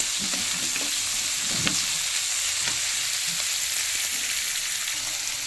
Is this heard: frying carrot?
yes